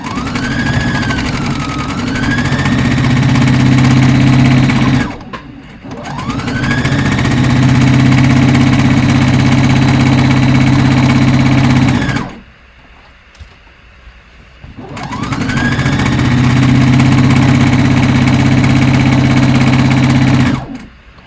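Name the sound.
sewing machine stitching fabric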